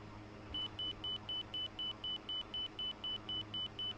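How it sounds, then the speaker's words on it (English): Inner marker beacon tone in the DCS flight simulator cockpit of an A-29 Super Tucano, a rapid series of short, high, evenly spaced beeps over a low steady engine drone, quiet overall. "There's the inner marker."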